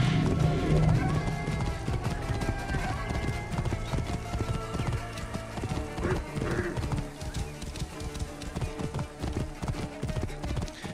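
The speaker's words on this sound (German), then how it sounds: "Dann ist ein scheiß Gaul hier." A horse's hooves clip-clop steadily and quickly in Assassin's Creed Origins, a dense galloping patter with a brief whinny near the start, set against busy game ambience.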